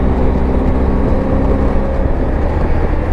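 A BMW R1250 GSA motorcycle engine pulls hard in fourth gear on a back country road, a loud steady drone with heavy wind rumble.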